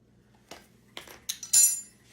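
A utensil stirring a hamburger steak mixture in a bowl, making four quick clinks and scrapes, the last one brightest and loudest, in an otherwise quiet kitchen.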